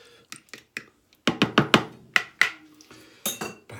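A utensil taps and scrapes scrambled egg from the sides of a microwaved bowl, making a series of close clinks and knocks that grow into a quick cluster of louder strikes before tapering off.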